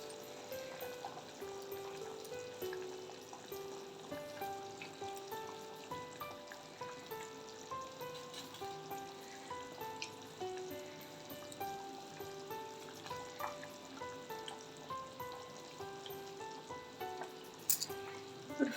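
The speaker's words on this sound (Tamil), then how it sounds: "குழம்பு வந்து நல்லா கொதிக்குது." Soft bubbling and popping of thick fish gravy simmering in a pot, quiet and continuous, with a faint clink near the end.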